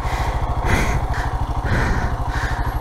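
A motorcycle engine runs steadily in third gear on a rough ride through burned country, a loud, close, pulsing drone with rhythmic firing that swells and eases throughout, with no talk over it.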